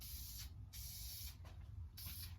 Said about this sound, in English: we're going to give it a good shaking, I guess. And we're just going to spray it